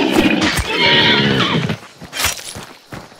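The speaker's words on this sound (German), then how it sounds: "Noch ein Pferd." A horse in the video game Hunt: Showdown whinnies loudly and close, a wavering neigh lasting over a second, followed by softer snorts and rustling.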